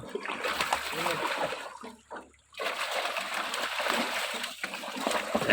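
Water splashes and sloshes as a sack of fish is hauled out of a farm pond, busy and close, with a short lull in the middle and voices calling out.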